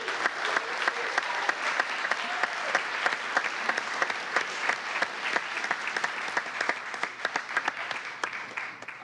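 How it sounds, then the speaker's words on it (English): A room of adults applauds a group of youth at a public budget committee meeting, a dense, steady burst of many hands clapping that carries on at full strength for about nine seconds with no talk over it. "if we can give these youth a round of applause."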